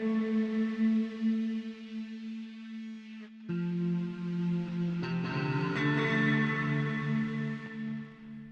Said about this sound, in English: It's a bass guitar. It's the Schecter that I've been playing,